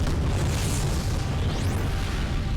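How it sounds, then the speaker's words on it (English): A dark explosion in the game Spyro: Dawn of the Dragon, a loud, sustained roaring rumble that fills the whole stretch with dense, heavy noise and a brief rising whoosh near the end. "We should probably leave before the dark explosion sends us careening back outwards, so Spyro, you go."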